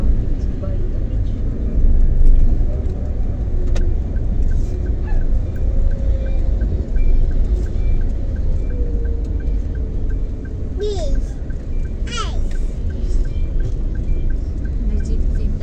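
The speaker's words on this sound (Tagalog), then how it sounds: "Grabe yung traffic sa Balita Beach." Road traffic near Balita Beach rumbles steadily with passing vehicle engines and a few brief higher tones, running continuously beneath people talking close by.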